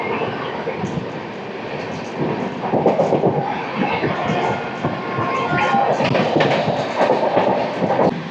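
Godavari Superfast Express from Hyderabad to Visakhapatnam running through a station without stopping, a loud continuous rumble of wheels and carriages heard from aboard, with faint rhythmic clatter and no talking.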